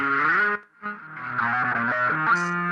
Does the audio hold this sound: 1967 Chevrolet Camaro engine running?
no